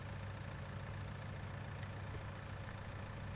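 A tractor engine idles steadily in Farming Simulator 19 on the Oak Plains map, a low, even rumble held at moderate distance with no talk over it.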